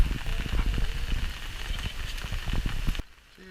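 Cold rain pattering steadily on surfaces in the small town of Hope, Alaska, a dense close hiss with scattered drops that cuts off abruptly near the end.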